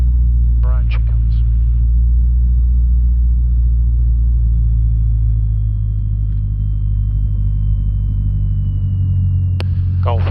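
The engine of a Cessna 152 light aircraft hums loud and steady, a dense low drone while taxiing at Netherthorpe Airfield, heard from the cockpit, with short bursts of radio chatter and speech over it.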